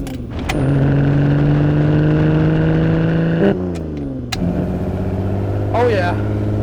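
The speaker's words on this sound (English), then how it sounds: "the exhaust, probably my favorite parts, snap exhaust, giving it its incredible sound" Ferrari 250 GT Berlinetta Lusso with a snap exhaust pulling away, its engine note loud and close, rising through revs then dropping at a gear change before climbing again; voices talk over it.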